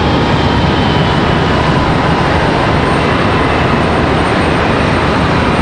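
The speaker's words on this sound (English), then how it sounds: "Spirit Airlines coming in from Newark, New Jersey." A Spirit Airlines airplane arriving from Newark at Charlotte Douglas airport, a loud continuous broadband jet roar that stays steady throughout with no voices.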